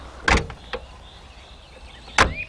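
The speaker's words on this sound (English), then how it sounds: "Pull up the handle to open the door from the outside." A Lada Niva 4x4 car door handled and worked open, giving two sharp broadband clunks about two seconds apart with a fainter click between, close and loud against a quiet background.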